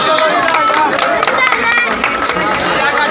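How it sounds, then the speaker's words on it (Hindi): A crowd claps loudly at a political campaign welcome rally in Loharu, dense continuous applause with a busy crowd murmur and cheering mixed in, close and sustained. "जोरदार तालियां"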